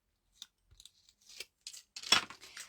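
A strip of tape is torn off during papercraft work on a storage box, with a few small snips and rips building to a sharp, close tearing burst near the end, surrounded by quiet.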